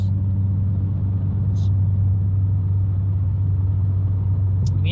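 A 2022 Subaru WRX fitted with an ETS exhaust holds steady near 3,000 RPM while cruising at 60, giving a constant low, even drone close by, with a voice speaking over it.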